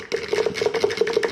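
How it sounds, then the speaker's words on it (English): Hand blender whirring in a narrow container as it emulsifies egg yolk and oil into mayonnaise, a steady close motor tone with rhythmic pulses as the blade churns. "you can just do it with a hand blender like this"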